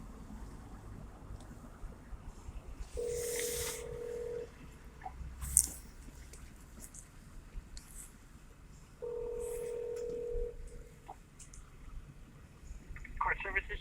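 While a telephone call is being transferred, the line gives two long, steady tones separated by a pause, with faint line noise and brief clicks between them.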